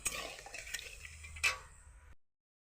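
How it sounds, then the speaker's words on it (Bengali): Sugar being stirred slowly into water in a pot to form syrup: soft scraping and light metallic clinks of a spoon against the pan, quiet and close, fading out after about two seconds. "চিনিটা আমি আস্তে আস্তে নাড়িয়ে চাড়িয়ে একটা শিরা আকারে করে নেব"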